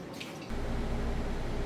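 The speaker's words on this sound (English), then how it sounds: "There's a W12, so a lot of oil in there coming out." Engine oil drains from the sump of a 2020 Bentley Continental GT W12 into a pan, a steady close splashing stream that starts abruptly and keeps pouring.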